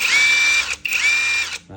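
A Makita power drill runs in two strong, high whining bursts separated by a brief dip, loud and close, with a short clatter at the end.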